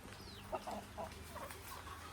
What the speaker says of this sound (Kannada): ಎಲ್ಲಿಂದ ಬಂತು ಈ ಕೋಳಿಗಳು?